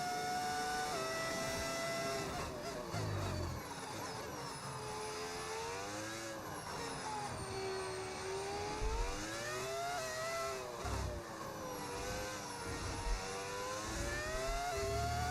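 Formula 1 race car engine in the F1 25 video game, a high-pitched whining drone that climbs and drops through gear changes and braking for a chicane, loud and continuous without talk.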